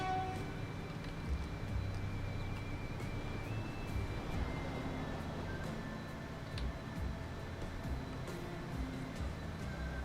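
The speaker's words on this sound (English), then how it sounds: "I'm actually going to send the coal and iron train off first." In the Transport Fever game, a coal and iron train pulls away, a low rolling rumble with faint clanks and a distant horn-like tone, heard steadily and fairly quietly.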